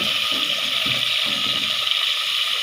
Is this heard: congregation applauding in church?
no